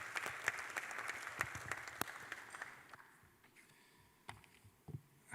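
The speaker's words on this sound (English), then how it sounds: "Let's give David a round of applause as he makes his way out" Audience applause fills a dim hall at the All Africa Pension Summit 2025, dense clapping for the first three seconds that thins to scattered, fading claps before nearly stopping.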